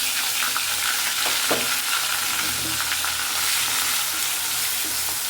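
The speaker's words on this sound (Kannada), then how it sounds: "ಇದನ್ನು ಚೆನ್ನಾಗಿ ಹುರ್ಕೊಳ್ಳೋಣ." A ground paste of chili, onion and ginger sizzles steadily in hot oil over a low flame, with occasional stirring scrapes breaking through the continuous frying hiss; no one speaks.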